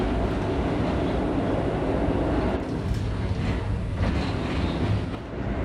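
An R38 subway train on the A line runs through underground tunnels, a steady loud rumble of wheels and car noise throughout with a slight dip near the end.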